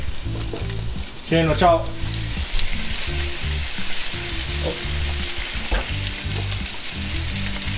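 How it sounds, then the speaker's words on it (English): Parrotfish (uhu) and bluefin trevally sizzle and crackle steadily as they fry over a charcoal fire outdoors, with a brief splashy burst as the fish go in and people talking now and then. "Look at that sizzle."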